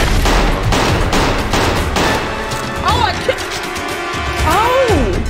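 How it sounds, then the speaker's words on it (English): Rapid, loud gunfire from a gun in a Backrooms horror video game, a dense volley of close shots through the first couple of seconds, followed by game noises and a voice. "Gun is a ranged weapon designed to use a shooting tube to launch typically solid projectiles"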